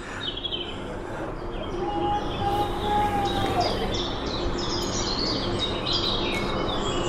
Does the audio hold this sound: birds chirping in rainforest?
yes